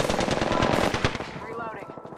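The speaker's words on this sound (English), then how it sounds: "Listen up, I'm getting shot at." Rapid automatic gunfire in the battle royale game Apex Legends, a dense close burst of fast shots lasting about a second and a half before trailing off, with speech partly under it.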